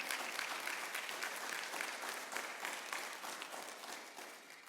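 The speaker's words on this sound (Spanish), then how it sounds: "Si va a aplaudir, apláudele fuerte" A church congregation applauds loudly and steadily throughout, a dense wash of many hands clapping that slowly eases off toward the end.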